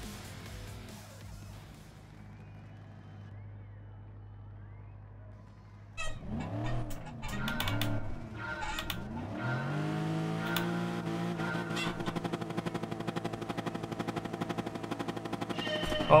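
A Peugeot race car in Gran Turismo Sport at Le Mans idles low at first, then snarls up through the revs with sharp gear-change dips before holding a loud, steady high-pitched engine whine.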